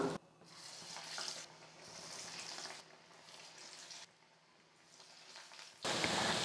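Masala vada frying in hot oil in a kadai, a steady close sizzle and crackle that swells and dips over several seconds with no talking.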